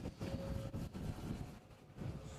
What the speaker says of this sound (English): Does sound very windy outside now, Tom